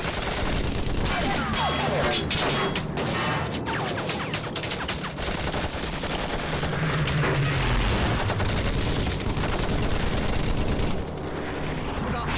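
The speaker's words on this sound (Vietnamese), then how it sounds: "Tất cả giương súng nghe lệnh của tôi cùng bắn." Rifles fire in a dense, continuous volley during a film battle scene, with crashing impacts and loud action effects running throughout, under occasional shouted voices.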